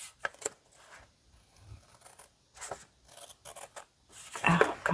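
Scissors snip through paper while making a craft coin pocket envelope, with several short, crisp cuts in bursts close by, separated by quiet pauses and ending in a louder rustle of handled paper.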